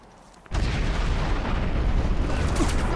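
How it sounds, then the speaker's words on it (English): After a brief quiet moment, a sudden loud blast erupts into sustained heavy rumbling, an explosion in the video game Crysis Warhead that keeps roaring. "Keep hearing explosions."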